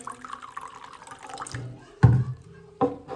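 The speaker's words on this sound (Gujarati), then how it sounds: "પહેલાં પાણી આપણે કાચના ગ્લાસમાં લઈ એવું દેખાડી દઈએ" Water poured into a glass: an irregular trickle and splashing, then two sharp louder pours, close by with no talking.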